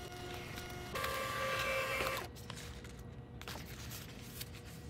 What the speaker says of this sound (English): I put another roll in there, and it's still printing